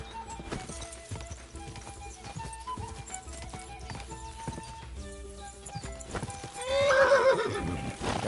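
A horse in Kingdom Come: Deliverance II gallops with rhythmic clip-clop hoofbeats under game music, then gives a loud, drawn-out neigh toward the end.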